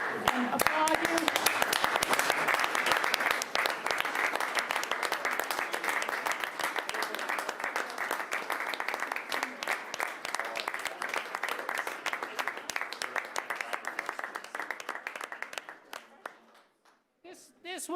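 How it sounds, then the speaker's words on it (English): A standing council-meeting audience applauds city staff with sustained, dense clapping that holds steady for about fifteen seconds before tapering off into a few last claps. "I'm going to ask that we all stand and applaud you"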